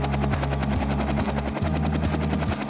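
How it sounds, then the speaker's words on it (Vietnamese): Cartoon helicopter sound effect from a children's animated song, a loud steady rotor chop with fast rhythmic beating and a droning engine hum, continuous throughout with no talking. "Này là máy bay trực thăng."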